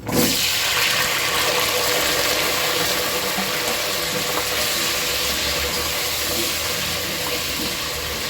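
Potatoes dropped into a hot pot while making prawn biryani, giving a loud, steady sizzling hiss that runs throughout, close and without talk.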